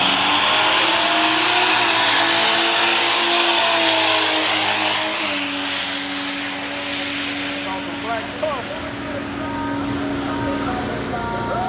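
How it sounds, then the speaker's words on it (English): A turbocharged Datsun 280Z drag-racing street car accelerates down the drag strip, its engine revving loud and continuous with a rising then shifting pitch over crowd and track noise, while people talk nearby. "Watch that little turbo get on down the track."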